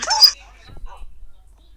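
A dog lets out a quick high-pitched yelp and whimper at the start, followed by near silence with faint rustling.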